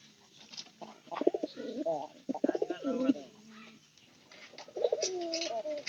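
Soft, throaty pigeon cooing in a few drawn-out phrases, close by, with quiet pauses between calls.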